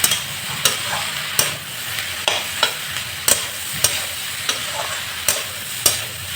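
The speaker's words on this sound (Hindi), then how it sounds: "भिंडी हमने के अच्छा से प्याज के साथ फ्राई हो जाएगा।" Okra and onion stir-fry in a pan, a steady loud sizzle broken by regular scraping strokes of a spatula every half second or so, close up.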